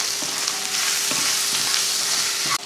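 Boiled, shredded chicken sautés with spices and salt in a pan, a loud, close, steady sizzle broken by a few soft stirring scrapes, with no talking.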